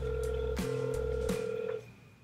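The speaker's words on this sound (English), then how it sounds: "Hey Siri, call Bergen. Calling Bergen" An iPhone call placed through Siri rings out, with a steady electronic ringback tone repeating in short bursts before cutting off, close and quiet.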